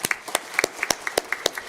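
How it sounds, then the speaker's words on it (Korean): A church congregation at a Sunday service claps to welcome returning members, a brief patter of scattered, moderately quiet applause. "우리 박수하겠습니다."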